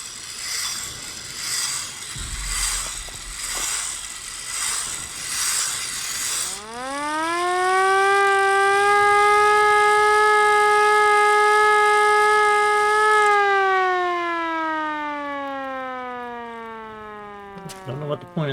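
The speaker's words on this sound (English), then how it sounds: "Let's blow this damn siren." A mechanical siren in the video game Ad Infinitum winds up from a low growl to a loud, steady wail, holds its pitch, then slowly winds down, after earlier clanking ratchet-like mechanical clicks; a brief metallic clatter comes at the end.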